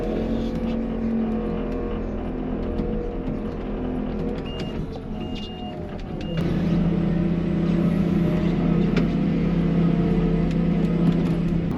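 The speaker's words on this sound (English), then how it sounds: "let's put a little scoop of the rylage on top of that, and we'll let her mix a little bit" A feed mixer wagon churns a load with rylage added, making a loud continuous motor drone and mechanical rumble that grows heavier and louder partway through.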